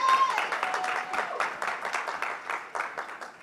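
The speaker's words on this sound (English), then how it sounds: "Big round of applause." An audience at a business summit applauds steadily, a dense crowd of clapping hands that holds at a fairly loud level throughout and tapers slightly near the end.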